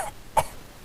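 A person imitates a cat coughing up a hairball with a single short, harsh hacking burst, close and fairly loud, followed by quiet.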